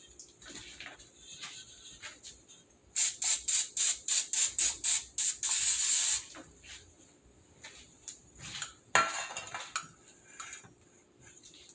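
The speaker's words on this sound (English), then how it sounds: "What we're going to do is we're going to spray down the inside." A cake pan is sprayed down inside with rapid short hissing bursts, about a dozen in a steady rhythm followed by one longer spray, then quieter handling clatter of the pan nearby.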